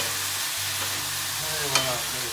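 Water poured into a hot pan while cooking pad thai, giving a steady close sizzle and hiss throughout with a brief sharper flare near the end.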